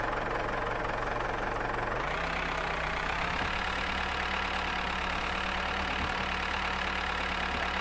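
A vehicle engine in the farming game Farmers Life runs steadily and loud throughout, its low drone shifting pitch upward about two seconds in as it pulls away and keeps driving, with no talking.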